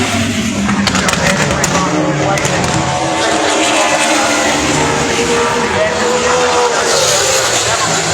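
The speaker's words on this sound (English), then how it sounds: "Genuine race car, isn't it?" Race car driving on the Pukekohe Park Raceway track, its engine roaring loudly and continuously as it speeds past, with a commentator talking over it throughout.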